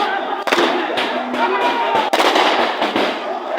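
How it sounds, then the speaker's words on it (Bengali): Police fire rubber bullets from inside a district hospital during a student protest, with sharp bangs amid a loud, shouting crowd. "পুলিশেরা গুলি চালাচ্ছে রিহার্সাল মারতেছে রাবার বুলেট চালাচ্ছে"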